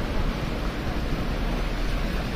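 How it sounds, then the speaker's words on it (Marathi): Strongly flowing water rushes in a dense, continuous roar with wind buffeting the microphone, loud and steady throughout with no voices. "किती भारी वाहायला पाणी."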